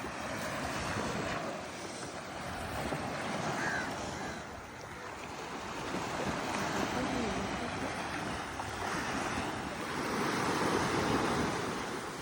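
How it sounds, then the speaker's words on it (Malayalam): Continuous surf rolls and washes onto the shore, rising and falling in slow surges, with wind buffeting the microphone and a voice faintly underneath. "അങ്ങനെ മനോഹരമായൊരു കടൽ തീരാണിത്"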